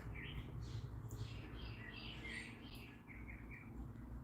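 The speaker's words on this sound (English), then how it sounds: "listen to those lovely birds chirping outside" Faint bird chirps and tweets from a distance, scattered light calls over a low background hum.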